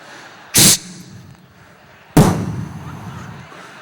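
A comedian's voice imitates a bottle rocket firework on a live stage: a sharp hissing whoosh, a pause, then a loud burst that trails off, close to the microphone.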